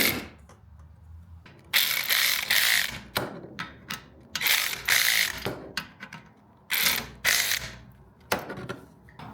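Ratchet tightening a small strap on a Delkevic exhaust fitted to a Kawasaki Concours 14 motorcycle, bursts of rapid close clicking separated by short pauses, loud and alone.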